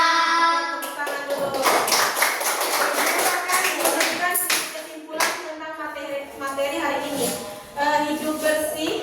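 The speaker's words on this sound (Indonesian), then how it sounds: "Tepuk tangan dulu." Children clap their hands in a classroom, with bursts of quick, close claps and taps mixed with high children's voices speaking and singing.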